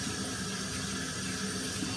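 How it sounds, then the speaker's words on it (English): Tap water runs steadily into a bathroom sink while hands are washed under it, a constant close hiss with no talking. "wash my hands"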